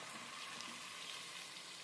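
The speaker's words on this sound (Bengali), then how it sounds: "ম্যারিনেট করে রাখা মাংস দিয়ে দিচ্ছি" Marinated chicken sizzles and fries in a pan of browned onion and ginger-garlic paste for a Dak Bungalow chicken curry, a steady soft crackle throughout with no voices.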